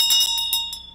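A handheld Vajra bell is rung during a temple ritual, giving bright, sustained metallic tones with several quick repeated strikes layered over a steady ringing hum.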